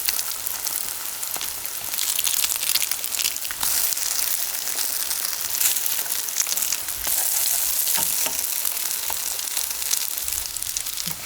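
Pollack fillet pancakes dipped in egg fry in a preheated, lightly oiled pan for Lunar New Year, giving a steady crackling sizzle with bursts of sputtering and occasional soft scraping, close and alone.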